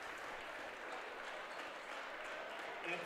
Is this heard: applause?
yes